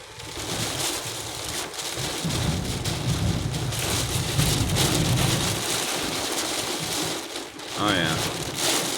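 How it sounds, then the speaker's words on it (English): Heavy rainstorm with strong winds pounding a car while driving, a dense continuous roar of rain on the vehicle, with a brief voice near the end. "Oh yeah. That's a storm."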